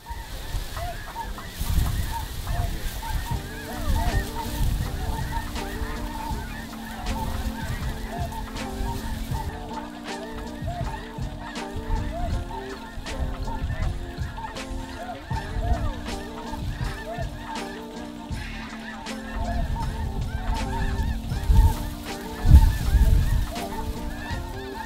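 A large flock of snow geese circling over a feeding field keeps up a continuous, overlapping chorus of honks and yelps, at mid distance and fairly steady throughout, with occasional faint voices nearby.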